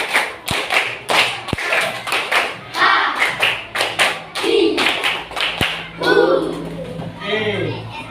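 Everyone in a classroom coaching session claps together, a dense series of sharp hand claps in uneven bursts over several seconds, mixed with voices talking and calling out.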